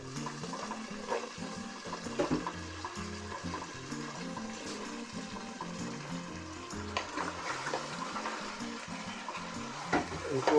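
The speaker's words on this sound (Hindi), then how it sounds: "इनको अब थोड़ा सा हिला लेते हैं ताकि जो मसाला है वो नीचे से ऊपर आधे थोड़ा सा मिक्स हो जाएंगे" Cubed potatoes and radish pods being stirred in spice paste in a pan sizzle and fry steadily, with a spoon scraping and clacking against the pan throughout, close and fairly loud.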